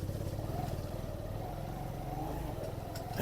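A motorcycle on a touring ride to Bashu Valley sets off again, its engine giving a steady, close mid-pitched drone with a faint rattle throughout.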